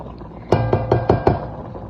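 A spoon knocks against a pot five times in quick succession while dried plum (aloo bukhara) chutney is stirred, each hit sharp and close over a low background hum.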